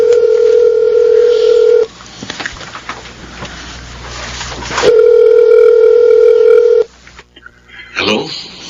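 A telephone's loud, steady dial tone is broken by a stretch of dialing beeps and clicks. The tone then returns and cuts off, followed by a few faint noises, all close and clear.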